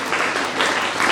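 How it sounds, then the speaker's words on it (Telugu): Audience applause at a felicitation ceremony for a retired teacher, a dense steady wash of many hands clapping for about a second, loud and continuous with no voices over it. "ఒక్కసారి గట్టిగా చప్పట్లతో ఈ కార్యక్రమాన్ని ఈ చప్పట్ల వర్షంతో నడిపించాలని కోరుతూ"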